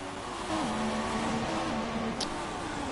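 Formula One race car engine from a video game at the Monaco circuit, a steady high whine that shifts pitch with gear changes, holding alone without talk.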